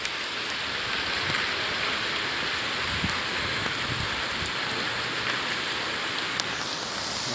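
Steady broadband rain falling on a rooftop terrace, a continuous hiss of drops on the surface with no breaks, moderately loud and even throughout, with no voices.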